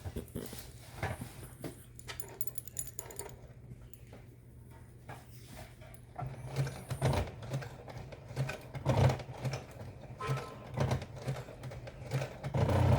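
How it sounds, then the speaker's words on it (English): A home sewing machine strains to bar tack across thick denim layers at a jeans zipper, with a low motor hum under faint clicks, then louder rhythmic needle thumps and rattles in close repeated bursts. "My machine does not like all the heavy layers in there, so it's complaining, but it can do it."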